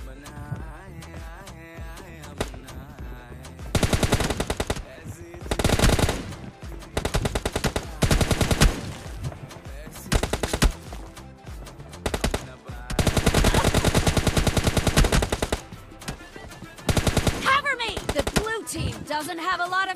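Gunfire in a mobile shooter game's 1v1 team deathmatch fight: loud, repeated automatic-weapon bursts, some long and sustained, with pauses between them and a person talking in the gaps.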